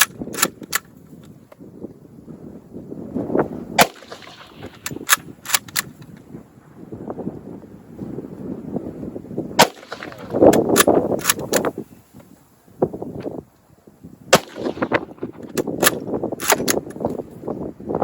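Sharp, isolated gunshots at an outdoor shooting range, fired in small groups and singles with pauses between, loud and close, over a background of quieter handling sounds and murmuring voices.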